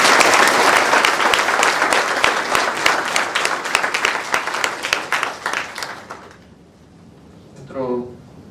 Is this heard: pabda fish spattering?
no